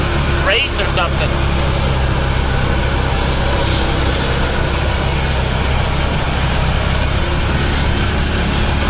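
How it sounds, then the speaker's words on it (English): Engine of a vehicle driving around farm fields, a steady low rumble that holds for the whole stretch, loud and close, with a voice heard over it briefly near the start. "So we're just driving around here."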